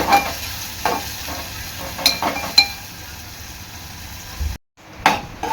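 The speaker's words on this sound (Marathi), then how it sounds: "आपला कांदा आहे ना चांगला लाल होईसपर्यंत शिजवून घ्यायचा आहे" Onion cooking in a pan until it turns red, for a prawn and potato curry: a constant sizzle with repeated scraping stirs and metallic clinks, close up, with a short silent break near the end.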